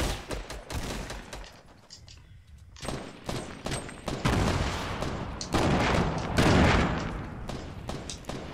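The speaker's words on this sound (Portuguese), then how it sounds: "Os caras estão metendo bala sem ver os caras" Fortnite battle royale gunfire rattles in quick volleys of close and distant shots, dense and loud, with a brief lull before the firing picks up again and grows heavier.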